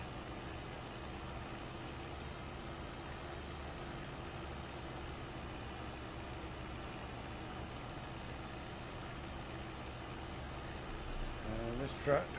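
A tractor engine in Farming Simulator 25 idles at a low, steady rumble throughout. A brief louder knock or clunk comes near the end.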